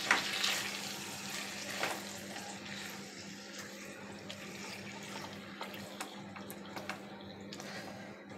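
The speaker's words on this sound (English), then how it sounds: "And now mix it." Curd chicken ingredients with plenty of chili being stirred together in a pan, a steady wet squelching and scraping that runs continuously at close range, moderately loud, with no talking.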